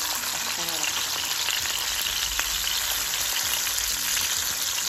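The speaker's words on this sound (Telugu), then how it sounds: "విత్ వైజ్ ప్రతి సైడ్ ఫ్రై చేస్తున్నాను నేను" A salmon fillet fries in a pan, giving a dense, steady crackling sizzle heard close and continuous, with no voices over it.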